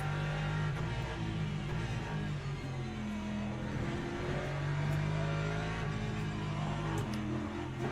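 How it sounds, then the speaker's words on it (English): A hypercar in the Le Mans Ultimate racing game roars past with a steady, loud engine drone that swells and fades over a constant background of racing engine noise. "Hypercar, another hypercar coming through."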